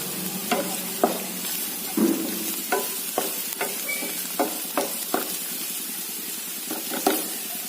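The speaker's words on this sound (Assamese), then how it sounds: "তাৰপিছত গোটেইখিনি একেলগে ভাজি লম" Oil sizzles steadily in a pan with turmeric and spice paste for a chickpea dish while a utensil stirs and scrapes in repeated, irregular strokes, close and moderately loud.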